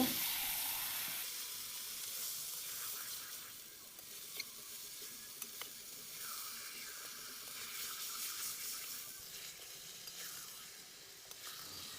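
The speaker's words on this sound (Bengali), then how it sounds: "এবারে আমি মুরগির মাংসগুলো মশলায় দিয়ে নাড়াচাড়া করে নেব" Chicken pieces sizzle steadily in a hot spice masala for a desert-style curry, with a continuous bright frying hiss and occasional soft scrapes of stirring, close and fairly quiet, no talking.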